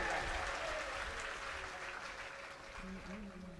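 Steady applause from an audience at a community gathering welcoming five families back into the Hindu fold; faint, continuous clapping with a voice briefly audible near the end.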